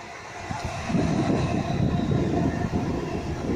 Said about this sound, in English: And I think we're going to get a train going past any second.